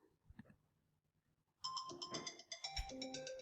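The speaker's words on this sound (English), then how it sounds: "My phone is ringing" A mobile phone rings with a loud electronic melody that starts abruptly after a quiet stretch of faint taps, its bright chiming tones repeating steadily close by.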